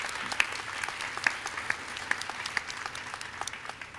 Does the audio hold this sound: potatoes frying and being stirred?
no